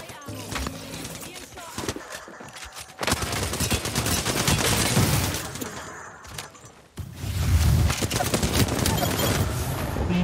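Bursts of rapid gunfire and single shots from a shooter video game, loud and close, with sharp cracks clustered in several bursts and a short pause near the middle.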